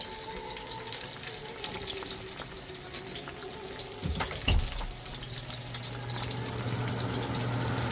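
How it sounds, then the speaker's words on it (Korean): A pot of broth with kelp, anchovy and green onion boils steadily, giving a continuous close bubbling hiss with a brief dull clunk about halfway through. "여기 다시마랑 멸치, 파하고 넣고 이렇게 육수물 끓이고 있어요"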